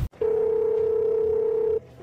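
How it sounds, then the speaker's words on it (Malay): A steady telephone dial tone sounds alone, starting after a brief click and holding evenly for about a second and a half before cutting off. "Ayu, saya nak telefon dulu."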